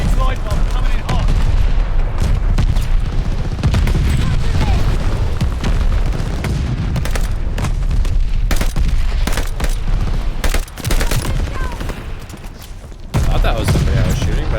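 Rapid gunfire and booms from a video game battle crackle densely and loudly for the whole stretch, with a short lull near the end before the firing resumes. Game voices talk underneath.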